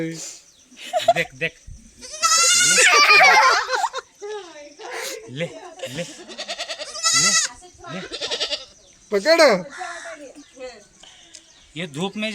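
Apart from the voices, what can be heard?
goats bleating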